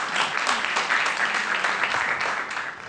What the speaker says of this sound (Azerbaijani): Alqışlarınızla Çingiz Ələoğlu!